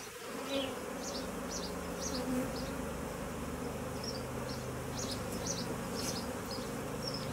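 Honeybees buzzing steadily in a dense, continuous drone during a beehive inspection of a HiveIQ hive, close and even throughout with no talking.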